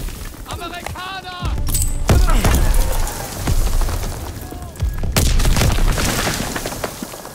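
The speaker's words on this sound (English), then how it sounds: "Artillery's hitting the beach!" Artillery explosions hit the beach in a D-Day Normandy video game, booming blasts rolling over loud battle noise, with shouting voices over the chaos.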